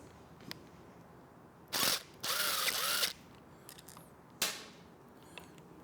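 A T20 Torx bit backs screws out of the handlebar controls on a Triumph Bonneville during a cafe handlebar swap. Two short bursts of whirring driver noise stand out, with sharp clicks before and after, in a quiet room.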